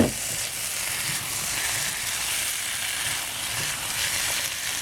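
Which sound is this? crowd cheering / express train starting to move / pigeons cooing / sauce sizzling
sauce sizzling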